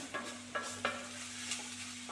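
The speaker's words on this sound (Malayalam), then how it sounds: "ഒന്ന് അതിൻ്റെ പച്ചച്ചവ മാറുമ്പം വരെ ഒന്ന് വഴറ്റിയെടുക്കുന്നുണ്ട്" Onion and potato sauté in a pan for a breakfast dish, with soft sizzling under a few quiet scraping stirs from a spoon, all close and faint.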